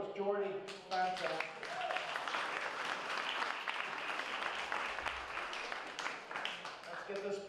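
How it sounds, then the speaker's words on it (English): Audience applause fills a First Friday evening lecture on Black mariners in the Age of Sail, a dense, steady wash of many hands clapping for several seconds, with a voice talking briefly at the start and end. "Another round of applause, Geordie."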